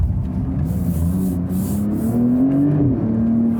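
A 2021 Porsche 911 Turbo S engine revs while downshifting with paddle shifters toward a sharp corner, a loud close cabin drone with pitch swinging up and down through blips and gear changes.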